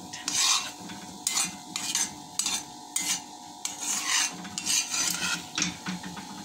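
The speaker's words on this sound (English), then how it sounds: "I'm not feeling the green anymore here, but I will continue stirring it" Guyanese black cake mixture being stirred in a pot, a steady series of scraping, rasping strokes with light metallic clinks, close and fairly loud, with no talking.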